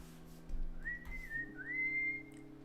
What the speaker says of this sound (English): I think the whistling isn't too loud.